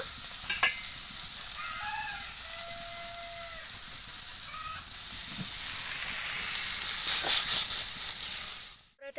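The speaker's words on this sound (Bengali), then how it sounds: "ডাটাটার সাথে ভালো করে মিশিয়ে নেব আর হালকা করে একটু ভেজে নেব" Bottle gourd stalks mixed with potato fry lightly in a pan, making a steady hiss and sizzle under stirring scrapes, swelling louder toward the end with a faint tonal whine in the background early on.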